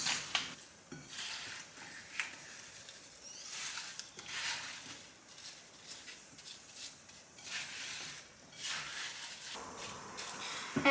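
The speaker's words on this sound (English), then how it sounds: "Then give those a mix." Apple pie filling being stirred with apple juice in a bowl, a steady run of close, soft scraping and wet stirring strokes with light clinks, no talking.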